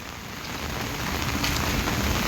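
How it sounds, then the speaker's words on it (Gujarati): Heavy rain pours down outdoors in a dense, loud, steady hiss that slowly swells, with drops pattering on surfaces and no voices. "ફૂલ મોજ છે, વરસાદ ચાલુ છે ફૂલ."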